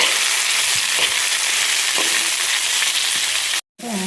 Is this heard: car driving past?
no